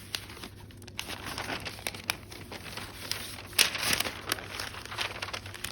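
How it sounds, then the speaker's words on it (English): Sheets of newspaper are crumpled by hand and wrapped around another crumpled piece, producing a continuous close crinkling and rustling with sharper crackles throughout. "I'm going to use another piece of newspaper and crumple it around the first to make it even bigger."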